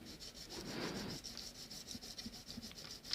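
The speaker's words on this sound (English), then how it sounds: "you can see that I'm using a different spot on the sandpaper each time for every fret" Sandpaper rubs across the frets of an Epiphone Les Paul 100 guitar, starting with a denser, grittier burst of scraping and then thinning to lighter, intermittent strokes. The sound is close and quiet, with no voices.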